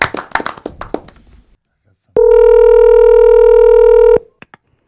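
A phone line during a call-in to a radio-style talk show: a voice speaks first, then a loud, steady electronic telephone tone holds for about two seconds before cutting off.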